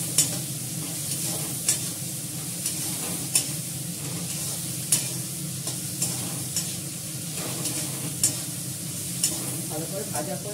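Food sizzles steadily in a pan while a utensil stirs it, with sharp scraping strokes recurring at a regular pace roughly every second over the continuous frying hiss.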